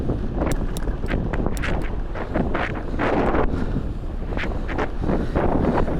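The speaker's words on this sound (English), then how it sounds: "it is pretty windy today" Gusty wind buffets a small action camera mounted on a road-going bike, a loud steady roar with repeated sharp thumps and surges throughout, no voice heard.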